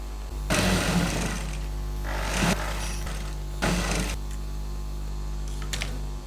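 Electric sewing machine stitching lining into a blouse at the armhole and shoulder, running in three short bursts of whirring with a steady low motor hum between them.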